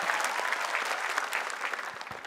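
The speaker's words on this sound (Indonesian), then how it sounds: "Tepuk tangan untuk Panglima Matahari." Dense audience applause at an Indonesian televised competition show, loud and continuous clapping sustained for a couple of seconds with no break.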